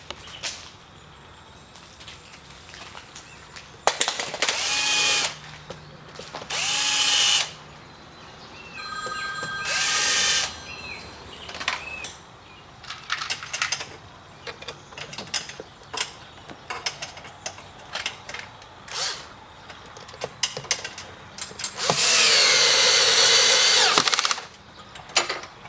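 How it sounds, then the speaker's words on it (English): A power drill bores holes through a boat's bottom piece to mount splash guards with stainless steel inserts, running in several loud whining bursts of differing length separated by quieter handling clicks and taps. "drill your holes"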